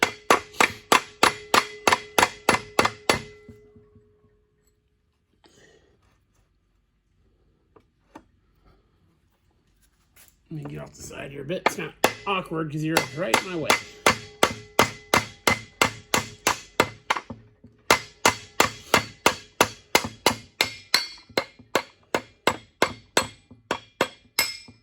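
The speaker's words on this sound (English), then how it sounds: "soft blow hammer." Regular metallic soft-blow hammer taps, struck through a piece of brass onto a shaft of a W.F. & John Barnes drill press, ring out in a steady rhythm, pause while a person talks briefly, then resume with repeated even blows.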